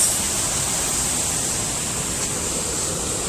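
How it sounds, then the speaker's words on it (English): Steady broadband rush of a stream flowing beside a hiking trail near Charlotte, continuous and even throughout with no voices. "Just relax, listen to the water, and let it take your mind"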